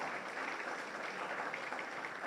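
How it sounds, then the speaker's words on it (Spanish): Sustained applause from an audience at a formal judicial lecture, a dense, steady clatter of many hands that holds at an even level throughout without a break or any voices. "Les pido que les recibamos con un fuerte aplauso"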